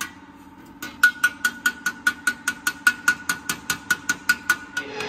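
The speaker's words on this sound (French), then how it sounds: "Ça sort tout seul au marteau, en fait." Rapid, evenly spaced hammer blows ring out on sheet metal, about a dozen and a half sharp metallic strikes in a quick steady rhythm, close by.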